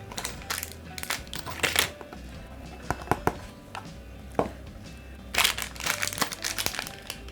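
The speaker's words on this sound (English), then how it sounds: "So let me remove this polythene bag here." Polythene bag crinkling as it is pulled off a Hikvision 5MP dome camera during unboxing, a series of short, close crisp rustles and crackles with brief pauses between them.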